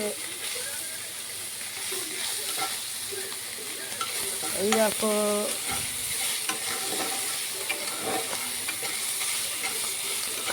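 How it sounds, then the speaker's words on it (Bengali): Dry red chilli and mustard seeds tempering in hot oil for a Bengali fish tok, giving a constant crackling sizzle with a brief scrape and clatter midway, while a voice speaks briefly over it. "এই দেখো এখানে ভাজা ভাজা হচ্ছে, এখানে ফোড়ন হচ্ছে।"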